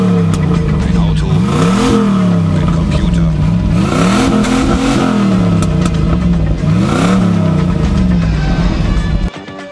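KITT, the Knight Rider car, with its engine revving in repeated rising and falling sweeps, loud and continuous over about nine seconds before cutting off abruptly.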